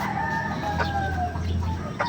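A weak, sickly chicken clucks and calls in a series of close, strained, wavering notes over a low background rumble, with no one speaking.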